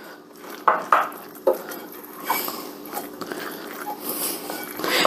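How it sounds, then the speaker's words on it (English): Cheese gets stirred into a beer dip in a bowl, heard as a few sharp clinks and scrapes of a spoon followed by softer, thick mixing sounds, close up and without speech. "you want to stir that up and get it all combined"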